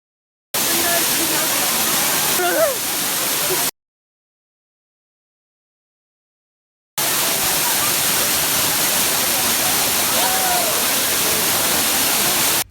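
Heavy roar of a waterfall on the Jhelum River in Azad Kashmir, a loud, dense, steady wash of falling water close by, broken by a few seconds of silence before the roar resumes at full strength.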